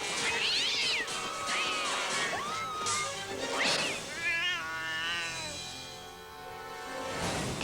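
A cat yowls and meows repeatedly, loud and close, with drawn-out wavering cries and a few sharp scuffling thumps in between.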